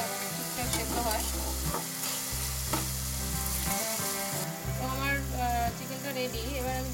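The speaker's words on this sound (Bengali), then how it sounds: "আমি চিকেনটাকে 2 থেকে 3 মিনিট এইভাবেই কুক করবো, চিকেনটা ঠিকঠাক সেদ্ধ হয়।" Chicken with soy sauce fries in a pan for fried rice, a steady close sizzle with stirring scrapes, under a low continuous hum with tonal music-like bands throughout.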